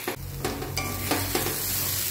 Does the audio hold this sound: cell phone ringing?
no